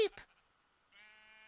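Sheep in the video game Aether II giving a short bleat, then a sustained, faint, steady tone after a brief pause, with no talk over it.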